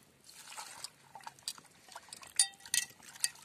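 Raw mutton being rinsed clean in water, with soft sloshing, trickling and splashing in uneven bursts, close and fairly quiet, with no talking.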